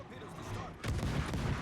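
Ship guns fire in World of Warships over a noisy battle background, a sudden loud broadband salvo breaking in partway and rumbling on to the end.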